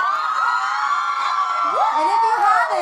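Concert crowd screaming and cheering at a show, a loud continuous wall of shrill voices that holds steady throughout.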